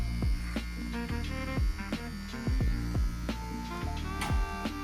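An electric beard trimmer hums and buzzes close up through repeated passes over a beard, its motor note dipping and catching in uneven bursts as it cuts.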